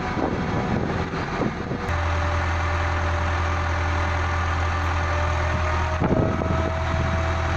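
A 1938 DUVANT 6NN four-stroke six-cylinder horizontal diesel engine of about 600 horsepower, once used at the Bovaird pumping station, runs steadily with a deep, constant low hum and mechanical clatter, close and loud, with no talk.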